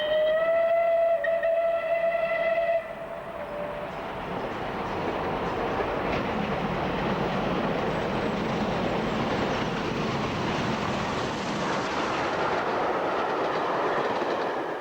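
A steam whistle sounds with harmonic tones for about three seconds, then the Cathedrals Express steam train rumbles and clatters steadily along the rails, loud and close, with no talk.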